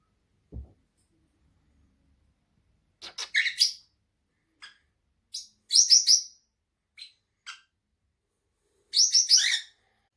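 Pet birds chirping in an indoor bird room, scattered short bursts of bright tweets and trills in several clusters, fairly close, with quiet pauses between and no talking.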